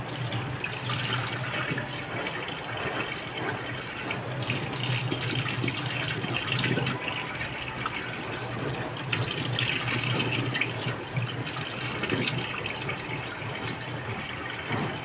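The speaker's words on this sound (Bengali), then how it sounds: "চলো, মাংসটা ধুয়ে নিই।" Steady gushing tap water pours into a kitchen sink while meat is washed, a continuous close splashing stream with no break across the whole stretch.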